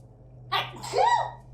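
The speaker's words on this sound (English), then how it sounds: "That makes snakes sneeze." A single sneeze from Snake in Metal Gear Solid: The Twin Snakes, with a short intake followed by a sharp, close, voiced burst over a low steady game hum.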